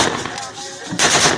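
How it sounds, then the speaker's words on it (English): Gunshots amid insecurity in Edo state: a rapid, loud volley of automatic fire, a brief lull, then another sharp burst. "You get the gunshot."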